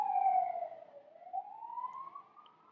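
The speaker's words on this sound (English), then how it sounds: "I'm waiting for that siren to pass." A siren passes outside, a single wailing tone sweeping down and then slowly back up, moderately distant and fairly faint, with no talk over it.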